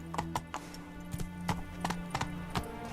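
Hooves of Roach, Geralt's horse in The Witcher 3: Blood and Wine, clip-clopping in a steady walking rhythm over a low sustained musical drone, close and fairly quiet.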